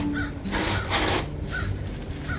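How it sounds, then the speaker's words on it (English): Crows cawing outdoors in an urban Florida garden, a few harsh calls spaced apart over steady background noise. "I love hearing the birds and the rooster"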